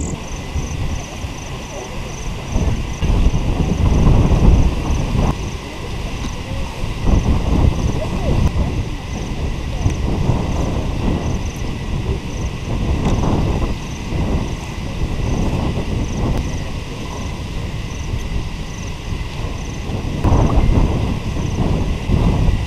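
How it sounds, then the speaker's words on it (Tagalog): Strong wind at a hilltop overlook in Sta. Cruz, Davao del Sur, a loud continuous roar and buffeting against the microphone throughout, with a steady hum running beneath it. "Lakas ng hangin."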